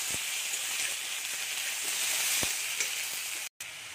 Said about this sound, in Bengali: এরকম মশলা কষাচ্ছি আমি।